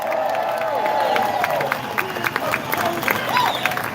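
Crowd at a reparations rally clapping and cheering, a continuous wash of applause with scattered whoops and voices, loud and lively throughout.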